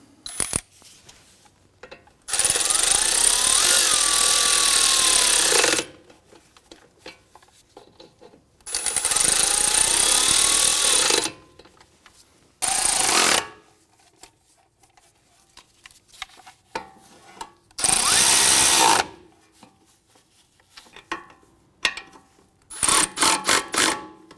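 A power tool snugs bolts during a front CV axle replacement on a 2004-2008 Acura TL, sounding as four loud, whining bursts of a few seconds each, separated by quiet gaps and light clinks of hardware.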